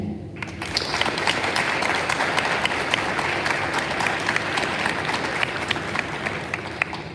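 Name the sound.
school assembly applause for chorus and bands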